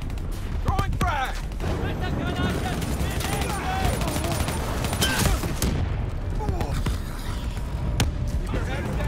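Dense, rapid gunfire from Call of Duty: Black Ops 3 during the campaign mission Demon Within, with sharp shots crackling continuously under urgent voices and explosions throughout.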